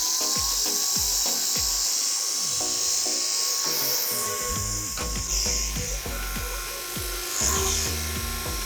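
A small flying toy sphere drone circles a room with a loud, continuous high-pitched propeller whine, its buzzing rising and falling as it moves, with occasional bumps and knocks.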